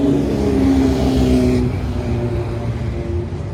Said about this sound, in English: we got 2 motorcycles coming down here